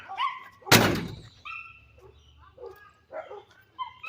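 Dogs bark and yip in short, close, irregular bursts, with a loud thump or slam early on breaking through the barking.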